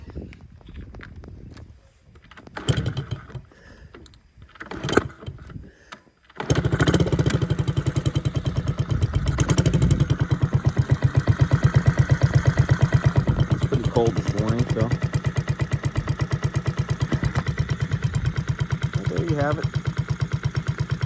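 A 1969 Honda Z50 minibike engine, chromed out, starts after a few scuffing footsteps and mechanical clatter, then settles into a loud, steady, close single-cylinder idle with a fast, even putter that runs to the end.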